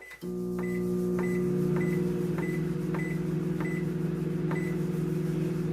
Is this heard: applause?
no